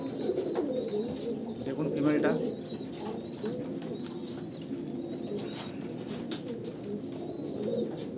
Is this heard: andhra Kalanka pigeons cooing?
yes